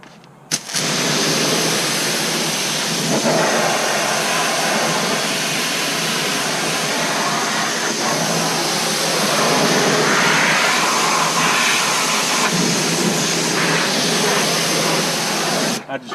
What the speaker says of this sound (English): So first thing I'm going to do is I'm going to rinse everything off really well.